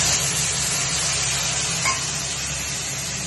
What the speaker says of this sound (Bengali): এবার আমি তেলের মধ্যে দিয়ে দিচ্ছি জিরে, কাঁচা লঙ্কা বাটা, জিরে বাটা, লবণ, হলুদ আর সামান্য মিষ্টি